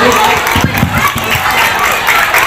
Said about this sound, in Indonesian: Boleh tepuk tangan buat Pak Agus.